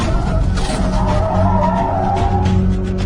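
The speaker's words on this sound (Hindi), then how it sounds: "मैं कुछ देर गाड़ी को संभाल नहीं पाया और एक नाली की तरफ जाके गाड़ी को रोक दी।" Used as a sound effect in a spoken horror story, a car's tires skid and squeal loudly as the vehicle slides to a stop, a continuous screech with engine rumble beneath.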